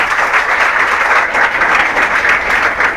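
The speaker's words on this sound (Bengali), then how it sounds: "আমরা সাজুর জন্য জোরে একটা হাততালি দিই।" An audience applauds for Saju at a school football tournament prize-giving ceremony, a loud, dense and sustained round of clapping from a crowd that keeps going steadily throughout.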